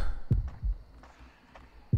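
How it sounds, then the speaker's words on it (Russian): Heartbeat sound effect from the horror video game Horrorfield, three low, heavy thumps spaced unevenly across two seconds over a faint background hum, with no speech. "Надеюсь, всем прекрасно слышно, да? Мое сердцебиение."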